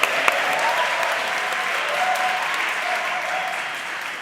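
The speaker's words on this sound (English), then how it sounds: "Colleagues, let's give all of them a round of applause." Conference audience at a critical dialogue session giving a round of applause, steady sustained clapping filling the room throughout at an even level, with no voices standing out.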